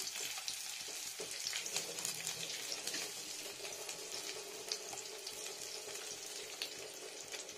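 Onion and garlic frying in oil with panch phoron tempering spices, a faint, steady hiss and crackle of sizzling that carries on evenly without pause.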